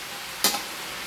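A single brief sizzle-and-stir burst comes as chopsuey vegetables with cauliflower are tossed in a hot pan. It is close and short over a steady low background hiss.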